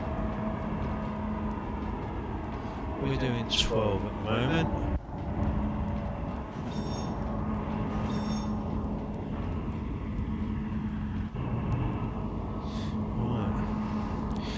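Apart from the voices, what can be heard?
trains running in the video game Trainz A New Era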